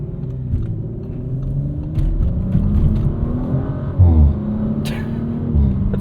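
A 2023 Audi RS5 Competition with a twin-turbo V6 accelerates at part throttle on a morning commute, giving a steady, loud engine drone with rising tones and a brief surge partway through, with no talking.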